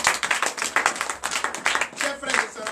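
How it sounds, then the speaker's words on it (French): A church congregation at a Sunday service in Comè, Benin, claps together in rhythmic bursts, loud and close, with voices mixed in among the clapping. "Donnez l'acclamation à Jésus"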